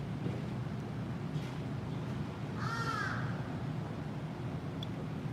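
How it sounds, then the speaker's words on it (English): A crow caws once in a short rising-falling call against steady low background rumble and faint outdoor hum, heard in Tokyo in the early morning. "This crow has some opinions."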